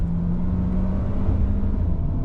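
Jaecoo J7 AWD with a 1.6-liter turbo engine accelerating in manual mode, shifting up by itself on a damp mountain road; a steady, close engine drone and road rumble run throughout, with no talking.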